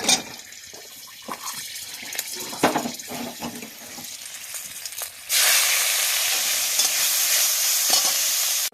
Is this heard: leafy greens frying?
yes